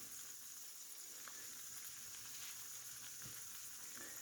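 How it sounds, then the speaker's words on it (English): A burrito fries in a pan, freshly flipped onto its second side, giving a steady, close sizzle and crackle that holds an even level throughout with no voices. "I flip it over and cook it on the other side"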